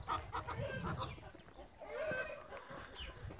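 Several Blue Brahma chickens cluck and murmur close by, short overlapping calls with a few higher squawks over a steady farmyard background.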